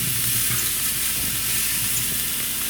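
Meat seasoned with coarse salt and coarse ground pepper sizzles steadily on a Pit Barrel Cooker used as a grill, a loud, continuous crackling hiss with no talking.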